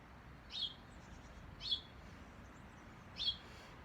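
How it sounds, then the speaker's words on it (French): A bird sings outdoors with three short, clear high chirps spaced about a second apart, faint against quiet background hiss. "Avec notre ami l'oiseau qui participe avec nous."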